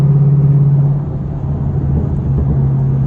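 A Jeep Trackhawk's engine gives a loud, steady, low exhaust rumble that swells slightly, heard close and alone.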